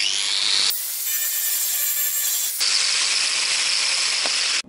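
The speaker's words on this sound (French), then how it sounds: "il va falloir décaper le métal à blanc" A power tool grinds a Traction 11B car body panel down to bare metal, a loud, continuous high-pitched whine in long bursts broken by a brief change in pitch.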